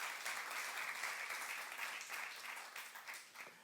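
A church congregation claps together during a youth-service sermon, a dense, steady wash of applause that fills the room at moderate level and slowly thins toward the end.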